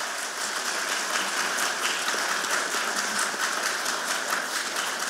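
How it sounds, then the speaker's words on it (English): Audience applause at the close of a session at the IIT 2013 entrepreneurship conference, a steady, dense wash of many hands clapping at moderate volume for the whole stretch, with no voices. "Can we have one big round of applause for them?"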